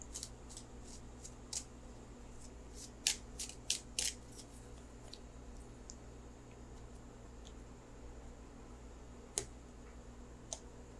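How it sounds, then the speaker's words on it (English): Tarot cards being shuffled for a reading, heard as soft, faint, irregular clicks and riffles over a steady low background hum, with a brief cluster of sharper ticks in the middle. "So let me shuffle for the outcome card."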